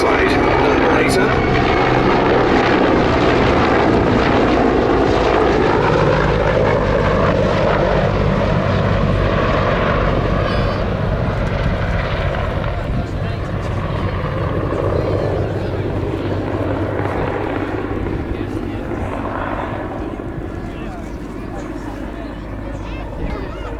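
A Czech Mil Mi-35 Hind helicopter flies a display at the Duxford Battle of Britain air show, its loud, continuous rotor and turbine roar dominating throughout, gradually easing slightly toward the end, with a voice speaking underneath.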